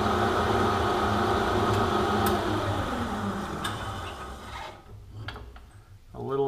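A metal lathe turns down a thin shaft with a loud, steady whirring and cutting drone that tapers off as the machine winds down, followed by a few light mechanical clicks and clatter.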